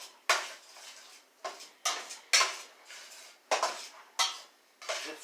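A sesame ginger stir fry being stirred in a pan: about nine sharp, close scrapes and clatters of a utensil against the pan, spaced unevenly with quiet gaps between.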